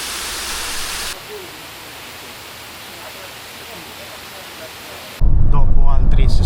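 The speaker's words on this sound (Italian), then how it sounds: "E poi questa cascata però artificiale." An artificial waterfall at a desert sightseeing stop pours with a steady rushing hiss, faint voices drifting underneath, before the roar abruptly jumps louder and closer near the end.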